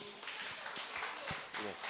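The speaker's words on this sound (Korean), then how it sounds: "박수" A small group clapping to welcome a new child at a church gathering, quiet and close, with uneven bursts of claps and voices talking over them.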